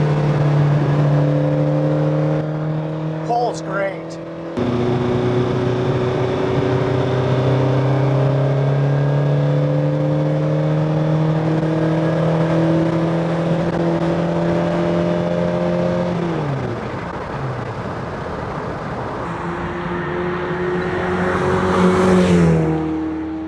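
A TVR Cerbera engine pulls hard and steadily from inside the car, a loud, continuous tonal drone that climbs in pitch, dips briefly at a gear change, then rises again.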